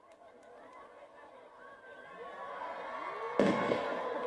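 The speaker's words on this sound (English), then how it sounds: "the firework is going to explode" A single sharp firework burst bangs out over a rising background of crowd chatter, followed by a crackling tail.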